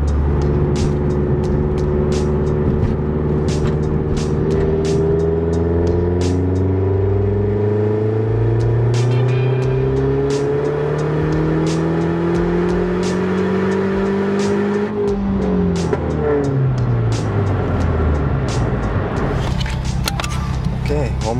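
A Mazdaspeed 3 fitted with a BNR S4 turbo drives on a private road with the windows closed, its engine droning and rising through repeated gear pulls, dipping at a shift midway, heard from inside the cabin.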